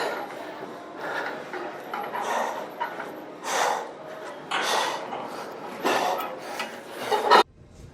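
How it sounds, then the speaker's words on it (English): A weighted sled is dragged backward one-armed across the ground, giving a repeated rasping, scraping rub in uneven pulls that rise and fade over several seconds, fairly close, then cutting off abruptly near the end. "Since it's a one-arm backward sled drag,"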